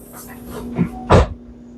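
Door of a 1971 Volkswagen Super Beetle shutting during engine work, one loud close-range thud after a softer knock, set against a faint steady hum.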